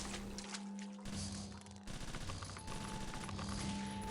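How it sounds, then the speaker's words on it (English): Rapid submachine gun fire from the SMG in the video game Shadow Man Remastered, aimed at alligators: loud, dense bursts of shots run nearly the whole time over a steady low game hum. "I guess I could try out the SMG."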